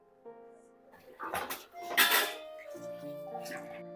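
Grated bottle gourd is moved into a bowl for a kheer, with several clinks and knocks of dishes and utensils in an otherwise quiet kitchen, brief and close.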